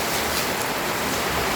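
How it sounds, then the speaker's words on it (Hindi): Rain falls steadily as a dense, unbroken hiss, loud and even throughout with no voices over it. "भाई बारिश हो रही है"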